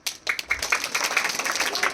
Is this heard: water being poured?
no